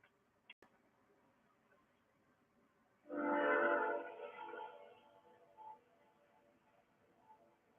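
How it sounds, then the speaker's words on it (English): A train rumbles past at a distance, swelling suddenly into a loud, broad roar for a couple of seconds before fading to a low steady hum, with a brief horn-like tone near the end. "There's a train."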